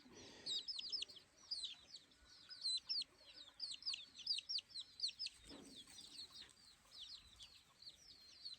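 Chickens and roosters on a backyard farm cluck and chirp in rapid, scattered bursts, faint and somewhat distant, with steady calling throughout.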